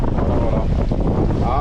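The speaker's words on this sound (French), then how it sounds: "Ah, on voulait du vent, on voulait faire de la voile." Strong wind buffets the microphone aboard a sailboat under sail off the Mediterranean coast between Bandol and Port Leucate, a loud, constant rushing roar with no voices.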